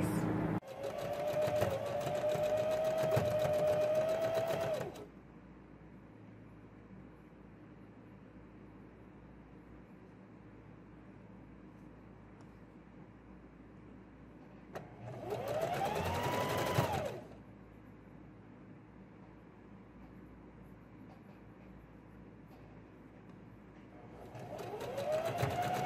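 Sewing machine stitching a seam and zigzag on a girls' pants-and-blouse outfit, three bursts of rapid whirring with a rising motor whine, separated by quiet pauses.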